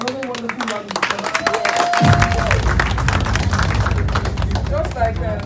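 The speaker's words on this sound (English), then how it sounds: "Please give them another wonderful round of applause." Loud applause from a crowd at a political party congress breaks out partway through and then holds as a thick, steady rattle of clapping. A voice and some music can be heard before it starts.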